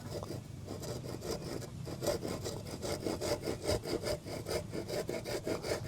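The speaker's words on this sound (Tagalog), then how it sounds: "lalagari muna tayo ng kahoy" A hand saw cuts through wood in steady, rhythmic back-and-forth strokes that grow stronger and more regular toward the end, close and fairly quiet with no talking.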